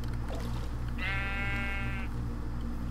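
A sheep in the video game Minecraft gives one drawn-out bleat lasting about a second, clear and close over a steady low background hum, with no talking.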